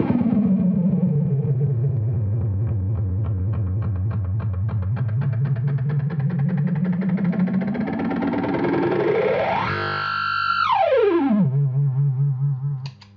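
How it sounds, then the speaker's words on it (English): An Anna Echo delay pedal self-oscillating, its feedback repeats building into a pitched, warbling drone that sweeps upward, jumps to a high squeal, then glides down to a lower sustained tone, with no voices. "Does the Anna Echo self-oscillate?"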